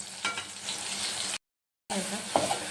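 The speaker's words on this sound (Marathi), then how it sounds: "लसूण, कढीपत्ता, सगळे मसाले टाकून घेते।" Garlic, curry leaves and spices hit hot oil in a pan with a close, steady sizzle and stirring scrapes, broken by a brief gap of silence before the frying resumes.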